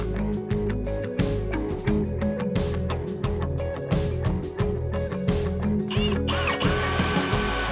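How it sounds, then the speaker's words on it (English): A power drill bores into hardwood with a loud, steady grinding whine broken by rhythmic pulses and brief pauses, close up and alone, shifting to a harsher high rasp near the end. "Not many drills that would drill in the hardwood like that."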